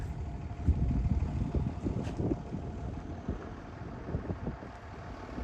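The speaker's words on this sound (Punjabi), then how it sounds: "ਇਸ ਟਾਈਮ ਇੱਥੇ ਪੂਰੀ ਹਵਾ ਚੱਲ ਰਹੀ ਹੈ" Strong gusty wind at Chang La mountain pass in Ladakh buffets the microphone in rough low bursts, loud and uneven throughout, with no talking.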